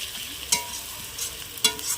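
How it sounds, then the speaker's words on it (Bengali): Onion, garlic and ginger paste fries over a wood fire for purda biryani, a soft sizzle under two sharp clanks of a utensil stirring against the pot. "পেঁয়াজ রসুন আদা আমি আরও একটু ভালো করে নেড়ে চেড়ে ভেজে নেব"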